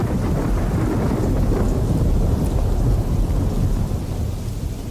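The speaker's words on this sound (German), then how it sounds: "Oh, das regnet wie die Sau." Heavy rain pours steadily with a deep, continuous rumble of thunder rolling underneath, loud and close throughout, in the mountains of Tibet in the video game Übersoldier 2.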